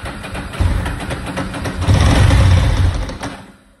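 A Ducati Monster 900 motorcycle engine runs on choke, a close, uneven low rumble that swells and rises briefly before dropping away at the end.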